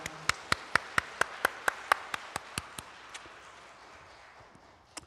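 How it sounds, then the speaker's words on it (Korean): Claps at a Korean Sunday church service, heard as a faint string of about sixteen evenly spaced sharp hand claps that slow and fade away. "우리 하나님께 큰 영광의 박수 올려드리겠습니다"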